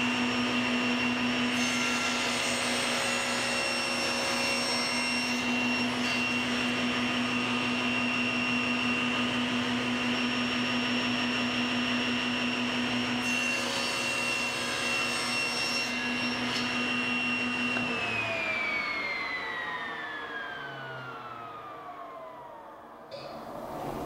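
A table saw cuts two inches from the center of wood drawer fronts guided by a miter gauge, a loud steady motor whine with blade hum that then winds down and fades toward the end, with no talking.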